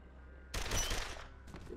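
Machine gun fire in the post-apocalyptic RPG Wasteland 2, a loud burst of gunfire starting abruptly partway through and sustained for about a second before trailing into softer follow-up shots.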